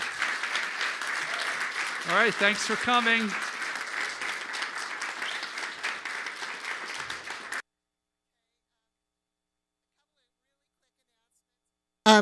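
A crowd at a monthly program talk applauds steadily for several seconds while a voice speaks briefly over it, then silence before a short burst of clapping returns at the end.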